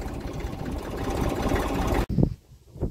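A parked tractor idles at the field edge during sowing work, a steady mid-low engine rumble that runs continuously, then a sharp cut leaves only faint scattered noises near the end.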